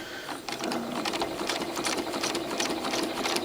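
A sewing machine stitches steadily during free motion quilting with rulers, a continuous close, even mechanical chatter with no talking.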